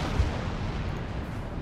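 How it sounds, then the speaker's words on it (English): Manticore rocket launcher firing a missile barrage onto a building in the Dawn of War 2 real-time strategy game, a dense rumbling roll of artillery blasts with one heavier thump near the start and a steady loud bed of explosions throughout. "Manticore launching its missiles right on the building"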